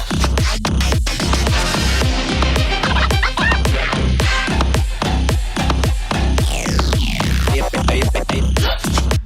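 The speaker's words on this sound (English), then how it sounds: "it kind of goes into like a glitch hop groove / like trappy style beat here" A dense, heavy electronic drum beat with punchy booming kicks and glitchy, stuttering textures, loud and continuous with a syncopated trap-like groove.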